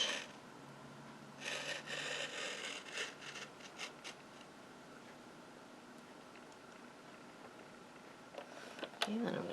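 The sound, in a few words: cutting wood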